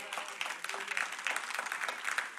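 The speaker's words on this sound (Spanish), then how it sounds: "Dele un aplauso fuerte al Señor" A church congregation claps together in steady, moderately loud applause, many hands overlapping in a continuous patter.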